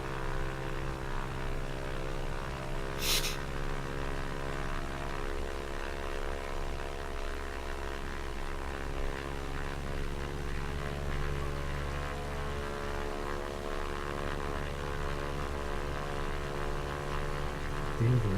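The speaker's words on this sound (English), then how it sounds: "And let's give it some beans. Let's see if we can get airborne in external view." A Cessna 172 on floats in X-Plane 11 runs its propeller engine at takeoff power, a steady loud droning hum with strong harmonic tones holding throughout, apart from one brief sharp burst early on.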